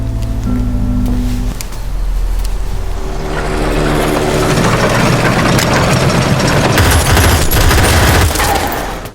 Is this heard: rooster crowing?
no